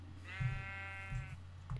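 A Minecraft sheep bleats once in a clear, drawn-out, wavering call, with low thumping sounds from the game beneath it.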